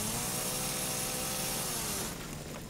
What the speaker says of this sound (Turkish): Çalış lan testere.